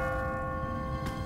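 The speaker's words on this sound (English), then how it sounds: "What kind of church bell goes off at 20 past the hour?" A church bell in The Walking Dead video game rings on an automatic timer, its sustained metallic tone humming steadily and close, with a fresh strike near the end.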